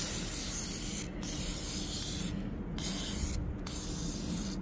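Aerosol lubricant sprayed onto the moving parts of a car's convertible top mechanism, a steady close hissing spray in several bursts separated by short pauses.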